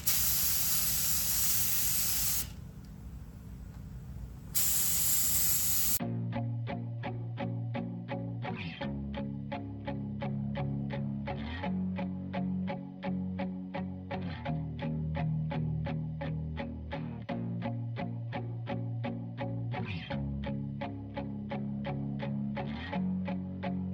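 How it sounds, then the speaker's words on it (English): A spray gun hisses paint onto a Foxbody car outdoors in two steady bursts with a short pause between them, then music takes over for the rest. "mix up the paint, and we're going to get spraying"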